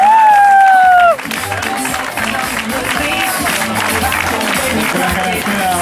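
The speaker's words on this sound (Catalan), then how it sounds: "Un fort aplaudiment per l'Isidre" Spectators at the 24th Mataró Urban Mile masters race applaud a runner finishing the mile; a short tone gives way to sustained clapping and crowd noise, fairly loud and continuous.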